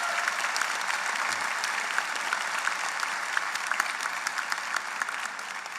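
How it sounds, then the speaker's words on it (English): Steady applause from a large audience at a law school convocation ceremony, sustained and even throughout, with no voices over it. "I would like for us to give a round of applause to the family members and friends"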